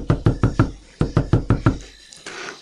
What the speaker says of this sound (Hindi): वो दरवाजे के पास जाता है और दस्तक देता है